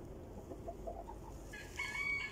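On a farmyard, chickens cluck in scattered soft bursts, then a rooster crows loudly and nearby toward the end over quiet outdoor background noise.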